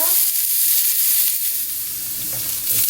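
Shredded cabbage stir-frying in an oiled pan over medium heat for an egg sandwich filling, giving a continuous close, loud sizzle with faint scraping as it is stirred.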